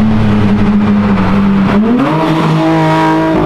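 A Porsche engine revs hard nearby as it drives past, a loud sustained drone that rises in pitch through acceleration, with no voices.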